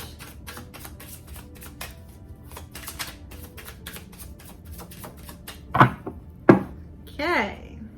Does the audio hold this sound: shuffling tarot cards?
yes